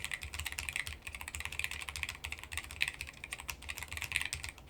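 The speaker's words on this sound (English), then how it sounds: "pleasant typing feel, pleasant sound signature overall" Fast, continuous typing on a low-profile mechanical keyboard, a dense patter of soft, muted keystrokes close up with no talking.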